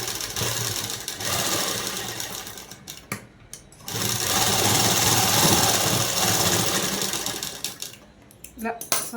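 A sewing machine runs along a blouse shoulder seam in loud, close bursts of rapid stitching with brief stops between them and some handling clatter.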